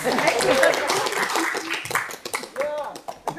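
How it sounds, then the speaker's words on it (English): Audience applause at a St Albans council meeting for the residents' association, moderate clapping mixed with talking and murmurs that thins out toward the end. "Come on, a round of applause for the St Albans Residents."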